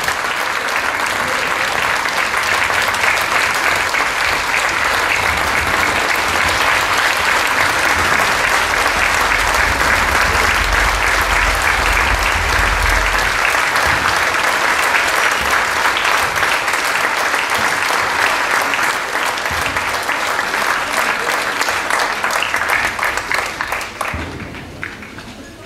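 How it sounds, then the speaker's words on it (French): Standing audience applauding a gold medal recipient at a French ceremony, dense sustained clapping from a large crowd lasting over twenty seconds before tapering off at the end. "Donc, vous pouvez vous lever aussi pour l'applaudir"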